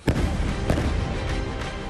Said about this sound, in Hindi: इस दौरान 2 बम और गिराए जाते हैं।